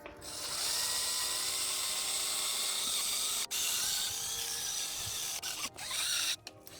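A wire brush spinning on a drill scours a Mini Cooper S part, giving a harsh, continuous buzzing whir that pauses briefly a few times, close to the listener.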